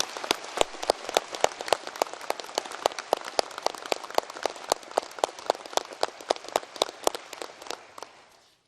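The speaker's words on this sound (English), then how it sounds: "Please give her another round of applause." Audience clapping at a Massey University graduation ceremony in Manawatu, a sustained round of applause from a hall crowd, dense and even, then tapering off at the end.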